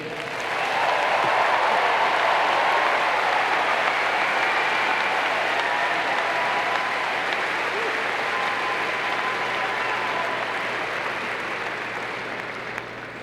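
A large audience at a university commencement ceremony applauds steadily, a dense sustained wash of clapping that fades slightly toward the end.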